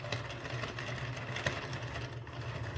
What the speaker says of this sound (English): I think that's more the clicker, the counter making the noise.